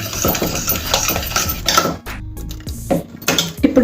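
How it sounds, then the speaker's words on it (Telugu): A metal utensil mashes cooked dal (bottle gourd lentils) in a pot, giving repeated knocks and clanks of metal against metal, loud and close, with a brief pause midway. "ఇలా కొంచెం మెతుకుంటే మన పప్పు ఇంకాస్త మెత్తగా అయిపోతుంది"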